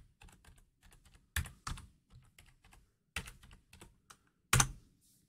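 Fingers type on a computer keyboard in short bursts of light key clicks, with a few louder, sharper keystrokes, heard close up in a quiet room with no speech.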